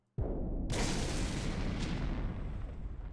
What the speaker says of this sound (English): I can hear explosions.